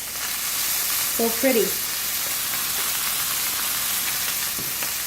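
Chicken breast sears in a hot pan with a dense, steady hiss of sizzling that holds throughout, close and strong, while a voice speaks briefly near the start.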